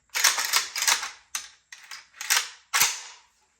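Metallic clacks and rattles of AK-variant rifle actions being worked while checking they are unloaded, several sharp close bursts of handling noise separated by short gaps, with no speech.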